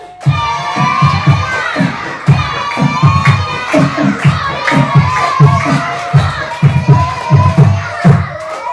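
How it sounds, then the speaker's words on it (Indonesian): A group of children at a lively talk claps in rhythmic bursts while shouting and cheering together, loud and close, with the voices rising over the steady beat of hands. "Tepuk tangan sambil teriak."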